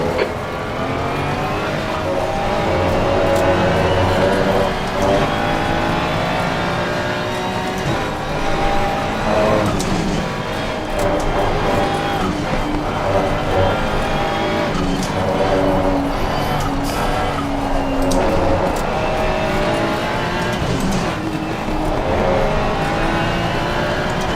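Race cars lap the COTA circuit, engines droning and revving through gear changes with rising and falling pitch, a continuous loud in-car roar with occasional tire noise and a faint radio voice at times.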